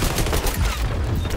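Shotgun fire in the video game XDefiant, a dense burst of loud, close blasts packed together over a second and a half, with no talking.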